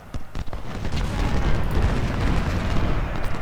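Sustained artillery bombardment in the Civil War strategy game Ultimate General: Civil War, a dense rumbling roar of overlapping booms and blasts that stays loud and continuous throughout.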